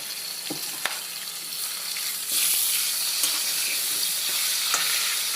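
Rohu fish head frying in hot oil, a steady loud sizzle with oil spattering and a few sharp crackles and pops standing out, the hiss swelling a little partway through, close by with no talking.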